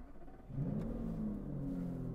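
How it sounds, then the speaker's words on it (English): An Aston Martin V12 Vanquish starts up, its engine catching after a brief crank and then settling into a low, steady idle rumble, heard close and fairly quiet with no talk. "Starting the V12 Vanquish"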